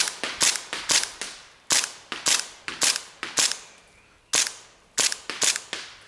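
An airsoft replica fires about fifteen sharp, close shots in quick irregular bursts with brief pauses between, each crack snapping out loudly over a quiet background.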